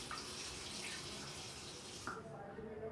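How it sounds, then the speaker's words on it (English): Water pours from a tap into a pan for making tea, a steady splashing hiss that cuts off near the two-second mark, leaving quiet room noise. "Firstly take 1 cup of water. Pour it into a pan."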